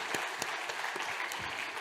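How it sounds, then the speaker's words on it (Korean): A church congregation claps in welcome for a newly arrived family during a Sunday service, a quiet, even patter of many hands heard from some distance. "우리 한번 박수로 환영하겠습니다"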